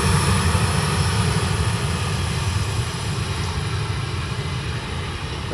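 A propeller aircraft engine idling at the holding point at East Midlands Airport before departure, a loud, steady droning rumble with a constant high whine, close and unbroken, slowly easing slightly, with no talking.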